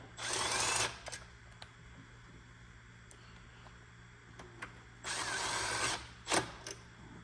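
Power drill spinning 10mm bolts down while fitting an hour/tach meter to a Kohler pressure washer engine, two whirring bursts with a gap of quiet handling and small clicks between.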